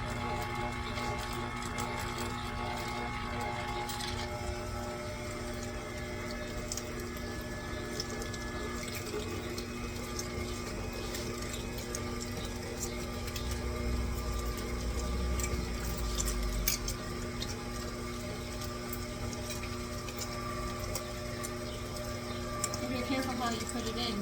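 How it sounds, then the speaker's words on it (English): An electric meat grinder grinds chicken for luncheon meat, its motor giving a steady, close whirring drone for the whole stretch, with a voice talking over it. "Press the forward button to grind clockwise."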